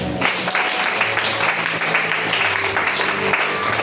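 A church congregation applauds during a sermon. Steady, dense clapping fills the whole stretch at close range, with a faint murmur of voices mixed in.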